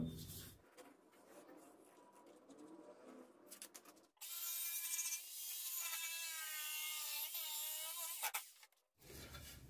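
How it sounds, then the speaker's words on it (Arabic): Hand saw cutting through wooden pieces for a jointed wooden float, heard as a quiet close rasping scrape at first, then a louder steady stretch of sawing strokes that stops abruptly. "كده قصينا القطعتين"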